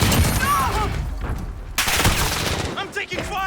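Gunfire in Modern Warfare multiplayer with an MP5: rapid bursts of automatic shots, close and sharp, cluster through the clip with brief pauses, mixed with game effects.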